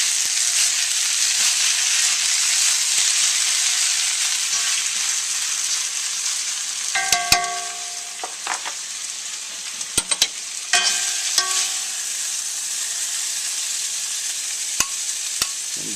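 Ramen stir-frying in a hot wok gives a steady, close sizzling hiss throughout, with a few metallic clinks and scrapes of the utensil against the pan in the middle.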